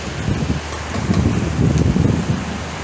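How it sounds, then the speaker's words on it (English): Steady rain falls during a small thunderstorm, a soft continuous hiss mixed with low wind rumble, fairly close and even throughout. "I just wanted to show you one more time the lovely little rain we're having."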